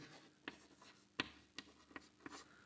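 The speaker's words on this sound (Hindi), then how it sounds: "मोहन का 8 घंटे का काम यहाँ पर लिखते हैं" Chalk or marker writing numbers on a board: a few short scratchy taps and strokes in quick irregular succession, close and fairly quiet, with no talking during the strokes.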